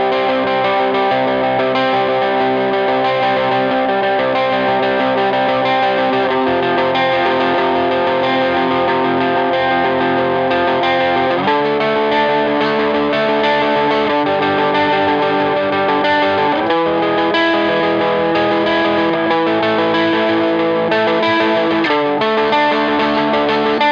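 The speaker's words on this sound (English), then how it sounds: "we are just left with that blues pedal with that nice bit of crunch" Dry electric guitar on the middle pickup runs through a blues pedal with light crunch and no delay, strumming loud, steady chords that shift every few seconds.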